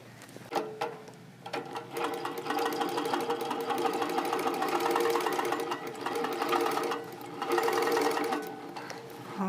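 A Moxie longarm quilting machine on a frame runs a basting stitch down a quilt, its close motor hum and rapid needle clatter rising and easing as it travels, with brief pauses and a few soft knocks near the start.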